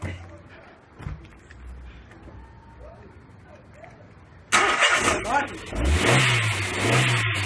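A car engine revs up loudly with a rising, roaring pitch after a quieter stretch of background noise and talk, staying strong to the end while people talk nearby.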